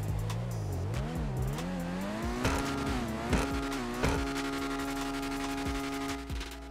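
A Benefactor Krieger supercar in GTA 5 revs up through a climbing engine whine, and a string of sharp exhaust pops and crackles fires off as the throttle is worked.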